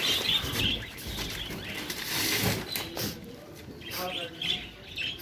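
Small budgerigars chirp and twitter in quick bursts nearby, with people talking over the birds and some rustling.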